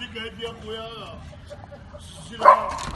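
A dog gives a single sharp bark near the end, right after someone speaks in a noisy setting.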